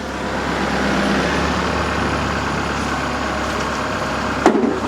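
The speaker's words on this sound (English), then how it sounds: "it's a random tractor coming into close" A tractor picking up stones works nearby, a steady, fairly loud diesel engine drone with a rumbling, clattering texture that continues throughout, with no one talking.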